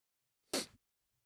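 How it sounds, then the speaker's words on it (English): A single short, sharp sneeze bursts out close to the microphone, preceded by a faint inhale and followed by silence. "I have to sneeze as well"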